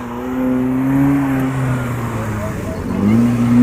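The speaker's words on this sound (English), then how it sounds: "79 Toyota Corolla K55 with a 12-volt blower. Makita 12-volt blower, turbocharged injected on this roller." A 1979 Toyota Corolla K55 turbocharged, fuel-injected car fitted with a Makita 12-volt blower, revving loudly at a muddy motorsport event, its engine rising and falling, with crowd noise and a commentator talking over it.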